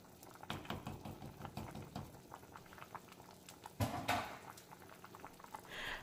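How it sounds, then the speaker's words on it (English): A pot of red beans bubbles and gurgles at a steady boil, with small pops and clicks, a brief louder clatter partway through, fairly quiet and close. "So my beans are boiling away"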